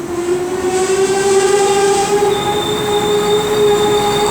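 A passenger train on the Kudowa–Legnica route passes close and loud, its wheels squealing in long sustained tones with a steady rolling rumble beneath and no talk.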